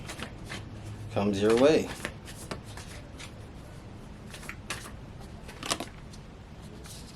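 Tarot cards are shuffled and pulled from the deck, a brief rustle and flick of cards heard close up beneath ongoing speech.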